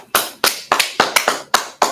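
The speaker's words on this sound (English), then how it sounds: "Let's clap it up for them." Seven sharp, evenly spaced claps ring out close and loud in a steady rhythm, like a small group clapping together in time.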